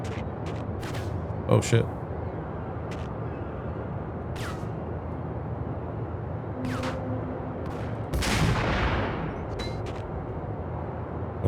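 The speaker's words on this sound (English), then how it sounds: "Let's try out this sniper rifle." Sniper rifle shots in the PC game Max Payne (2001), a few sharp cracks spaced apart, the loudest one ringing out near the end, with talk over the action.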